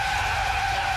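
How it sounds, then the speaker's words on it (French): A car braking hard with its tires skidding, one loud continuous screech that fills the whole moment, close and sustained. "Mais on freine, Bob, on freine!"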